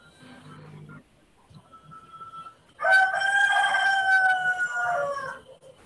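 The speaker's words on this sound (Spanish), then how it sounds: "Está cantando el gallo." A rooster crows loudly and close, one long drawn-out call lasting a few seconds, after a brief faint tone and a stretch of near-quiet.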